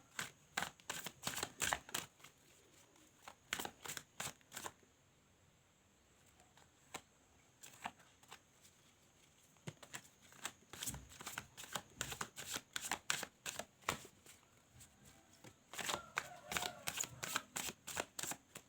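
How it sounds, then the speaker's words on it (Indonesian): Tarot cards are shuffled close by in repeated bursts of riffling and snapping, separated by short quiet pauses, soft and crisp throughout with no voices. "Jangan di skip pada saat saya shuffle kartunya"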